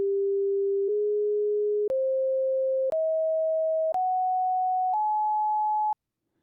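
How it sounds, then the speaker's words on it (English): Six pure electronic sine tones from a signal generator, playing the Leonard Horowitz solfeggio scale, each about a second long, step upward in pitch one after another, then stop abruptly. "I'm going to play what the Leonard Horowitz solfeggio scale would sound like"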